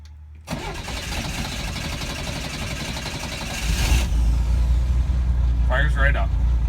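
A 1964 Corvair Monza sedan's engine cranks briefly and catches, then settles into a loud, steady running rumble after sitting unused for over a week; a voice speaks over it.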